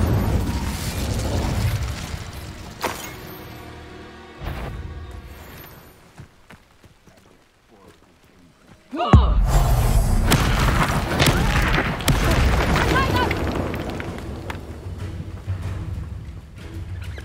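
Fire spell explosions from Hogwarts Legacy, played on hard difficulty on PC: a dense roar of booms and crackling bursts fills the first half, drops to near silence, then a sharp blast opens into a loud sustained rumble.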